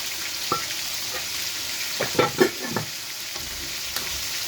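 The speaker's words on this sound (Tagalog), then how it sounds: "nagluluto ako ng munggo" Mung beans sautéing in a pan, a low steady sizzle with a few clacking stirs and scrapes of a utensil against the pan, close and alone without talk.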